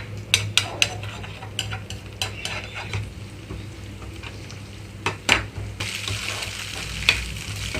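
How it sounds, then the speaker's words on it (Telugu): Egg frying over a medium flame and being stirred in a pan: a steady sizzle underneath with a run of sharp spatula scrapes and taps against the metal, no voices. "మీడియం ఫ్లేమ్లోకి టర్న్ చేసి ఎగ్ అంతా కూడా కొంచెం కదిలిస్తున్నాను ఇలా"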